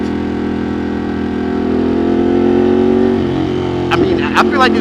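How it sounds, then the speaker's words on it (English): Ducati Monster 1200 motorcycle exhaust, a steady loud low engine drone that rises slightly in pitch midway, with a person's voice breaking in near the end. "Do y'all hear that exhaust?"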